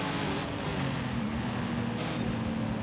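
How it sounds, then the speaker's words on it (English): A deep, rumbling car exhaust drone in the racing video game Forza Horizon 5 holds steady throughout, thick and continuous like an engine cruising under load. "I can actually hear how girthy the exhaust sounds of the cars."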